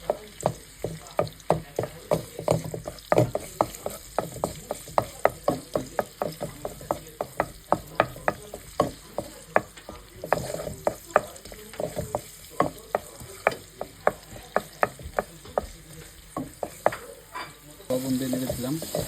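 Cardamom and cloves fry in ghee in a pan while cooking chicken biryani, with a steady sizzle under a brisk run of close, sharp spoon scrapes and clicks against the pan.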